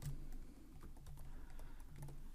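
Someone types on a computer keyboard while entering Kotlin code, producing a steady run of soft, quick key clicks at close range over a low background hum, with no talking.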